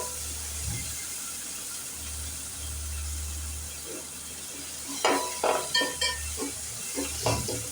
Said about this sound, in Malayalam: ഇതൊക്കെ നമുക്ക് ചെറുതായിട്ടൊന്ന് വഴറ്റിയെടുക്കാം.